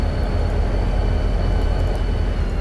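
An F45 diesel locomotive in the Trainz train simulator game rumbles steadily with a deep engine drone and a faint high whine on top, continuous and even throughout.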